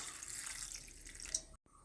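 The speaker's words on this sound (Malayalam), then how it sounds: "അപ്പോൾ നമ്മൾ ഇതൊന്ന് വേവിച്ചെടുക്കാൻ വേണ്ടി ഇതിലേക്ക് വെള്ളം ഒഴിക്കുന്നുണ്ട്" Water runs from a tap into a cooking pot meant for boiling grapes, a steady close splashing stream for over a second that cuts off abruptly.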